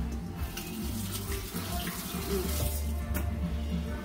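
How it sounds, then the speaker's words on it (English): Tap water runs steadily into a kitchen sink while hands are rinsed under it, a close, continuous splashing rush with no talking. "Rinse my hands again."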